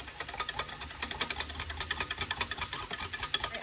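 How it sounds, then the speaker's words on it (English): A small whisk beats sauce in a bowl with a fast, steady clatter of rapid metallic ticks, close and even throughout. "I'm going to whisk this up."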